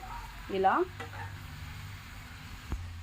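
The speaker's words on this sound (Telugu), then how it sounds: "సో ఇప్పుడైతే మనము రొయ్యలు వేసుకుందాం. మంచిగా మనము కలుపుకోవాలి." Prawns are stirred in a pan for a prawn curry, with a soft scraping stir, a brief clatter and a quiet sizzle underneath, followed by a sharp utensil knock near the end.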